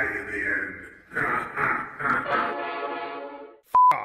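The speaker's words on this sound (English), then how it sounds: "Fuck off, train." Train passing with a rumbling, swelling roar that rises and fades over a few seconds, followed by a short, loud blast of its horn near the end, with a voice briefly audible.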